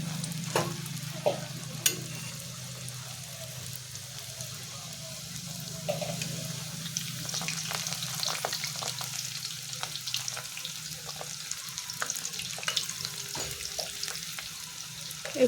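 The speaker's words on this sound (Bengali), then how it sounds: "এগুলো আমি উল্টে উল্টে ভালো করে ভেজে নেব।" Pieces of nimki dough made from flour fry in hot white oil, giving a quiet, continuous crackling sizzle with scattered sharp clicks and clinks from turning them.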